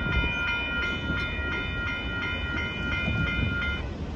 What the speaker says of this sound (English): there goes the Northbound Union Pacific hopper car train